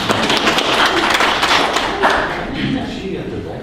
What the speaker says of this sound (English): We applaud.